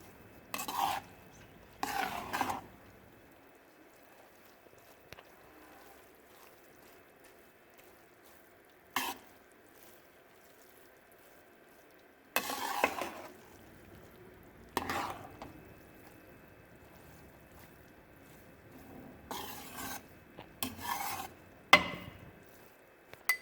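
Boiled rice is mixed in a pan for jaggery rice, heard as a few separate bursts of scraping and stirring spread out over long quiet gaps, with light clinks of the utensil against the pan.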